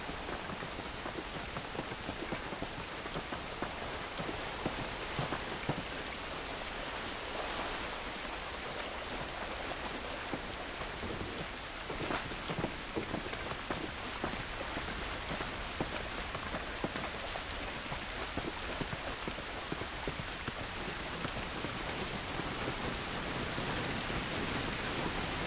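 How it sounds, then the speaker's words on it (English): Steady, dense rain falls outside in the video game The Last of Us, a constant hiss of drops that goes on without a break and with no voices. "This rain ain't gonna do us any good."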